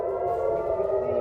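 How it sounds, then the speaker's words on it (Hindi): Air-raid sirens sounding during an Iranian missile attack, a steady sustained wail, loud and continuous over the whole moment with no talk. "युद्ध के सायरन साफ सुनाई दे रहे हैं।"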